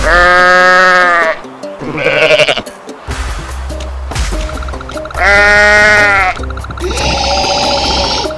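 Loud, wavering bleats of a goat in the video game Goat Simulator, repeated several times with game sounds between the cries.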